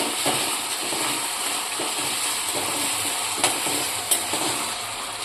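Potatoes being stirred in a hot oiled pan for a fasting-style sago khichdi: a continuous loud sizzle with a few sharp scraping knocks from the spoon.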